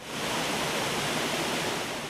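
Cascade Waterfall in Sequoia National Park pours in a steady, dense broadband roar, close and continuous for the whole stretch with no talk.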